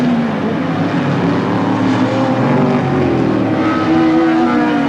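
V8 sports sedans, including a 5.8-litre Holden Monaro, race at Calder Park in 1983, giving a loud, sustained engine roar that rises and falls slightly with no break.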